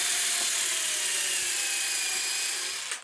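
A drill pre-drills a short pilot hole in a wooden nightstand side, a steady high whine with a shallow cut that stops abruptly at the end.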